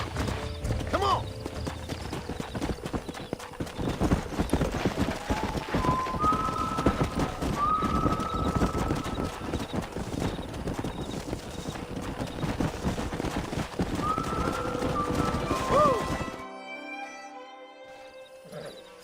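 A horse gallops in the Red Dead Redemption video game, with steady rapid hoofbeats and game ambience, a couple of faint whinnies, and tones in the game sound fading to near silence at the end.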